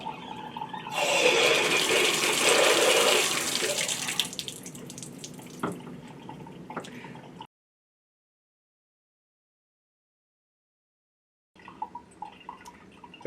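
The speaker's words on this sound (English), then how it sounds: "we will open and close the valves fully so you can see how that operation is done" A faucet's two-stage cartridge valve opens to a strong rush of water that flows steadily for several seconds before shutting off into silence, followed by a few faint clicks of the valve handle.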